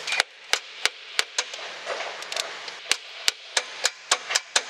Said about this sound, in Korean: 한번 망치질 해볼까?